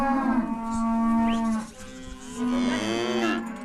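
Mother cows moo loudly and close by, calling to their separated calves, with two long, drawn-out calls and a brief pause between them.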